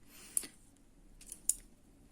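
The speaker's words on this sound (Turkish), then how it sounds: "Dikmek için yeterli miktarda ipimi hazırlıyorum, kesiyorum arkadaşlar" Scissors cutting nylon yarn for a crochet project, two quick crisp snips about a second apart, close and fairly faint over a quiet room; no talking.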